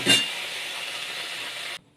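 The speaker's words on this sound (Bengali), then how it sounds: "গোটা জিরে ফোড়ন দিয়েছি হিং দিয়ে দিলাম" Whole cumin seeds and asafoetida hit hot oil in a pan with a sharp burst of sizzling. A steady hiss follows for nearly two seconds, then cuts off abruptly.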